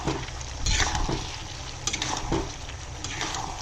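Duck meat and potatoes being stirred in a frying pan, with a steady close sizzle under irregular scraping and stirring strokes, no talk.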